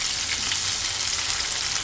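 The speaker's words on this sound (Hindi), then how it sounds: "प्याज को भी थोड़ा भून लेंगे, ज़्यादा नहीं भूनना है, बस हल्का सा भूनेंगे" Onion frying lightly in a pan, a steady dense sizzle that stays loud and even throughout with no talking.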